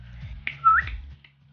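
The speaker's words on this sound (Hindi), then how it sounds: "फिर से उसे सीटी बजाकर बुलाना है" A person whistles a single clear, rising tone to call a parrot chick back during free-fly training. The whistle sits over a low indoor hum, with soft handling noises before and after it.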